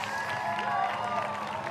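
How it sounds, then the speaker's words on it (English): A roadside crowd at the 2022 Berlin Marathon cheers and claps in a dense, steady roar while a commentator talks over it. "the crowd's building all the time"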